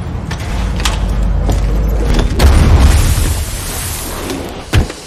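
A high-explosive round detonates in the film Dredd amid a loud, dense action mix: a sustained low rumble, sharp metallic impact transients, and a final hard boom near the end.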